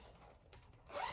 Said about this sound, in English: So you have your zippers,